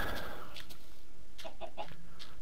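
Chickens in Minecraft cluck in a few short, soft bursts against a quiet steady background, somewhat distant, at night.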